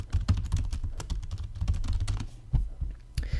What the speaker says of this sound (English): So I'm going to type in brief statement.